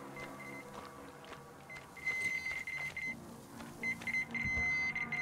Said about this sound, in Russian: прям этот металлоискатель пищит, пищит пацанчик, очень сильно